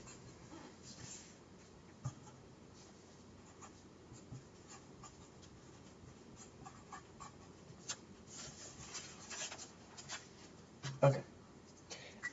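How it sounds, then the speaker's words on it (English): A pen scratches steadily across paper while an equation is written out by hand, faint and close, with light rubbing strokes and a few sharper taps. "So let me write our equation."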